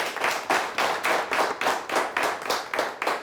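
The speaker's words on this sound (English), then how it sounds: "Let's give them both a nice round of applause" Two high-school quiz teams on a TV quiz show receive applause, with a steady, rhythmic run of close, moderately loud hand claps pulsing about three times a second and no talking.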